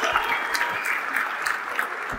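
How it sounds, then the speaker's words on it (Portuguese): A studio audience bursts into steady applause after a guest is called off stage, a short, dense patter of many hands clapping with no talk over it. "Senhoras e senhores, muitos aplausos pro seu José"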